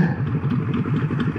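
Tuned-up motorcycle engine running, a close, loud, rough rhythmic burble with rapid repeating pulses and mechanical clatter.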